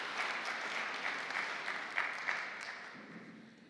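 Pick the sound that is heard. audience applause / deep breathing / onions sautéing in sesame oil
audience applause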